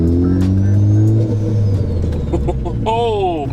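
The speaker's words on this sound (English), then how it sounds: "does it make more turbo noises with the big turbo too?" A Ford Focus ST with a big turbo accelerates hard, its engine rising in pitch close by with a thin turbo whistle above. People talk over the engine noise.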